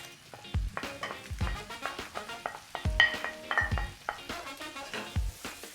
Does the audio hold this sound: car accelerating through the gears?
no